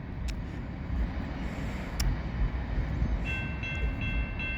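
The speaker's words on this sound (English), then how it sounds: "there goes this westbound train" Westbound BNSF freight train passing close by at a railroad crossing, a dense, continuous rumble and clatter of rolling stock. A high steady ringing tone joins near the end, with no talk.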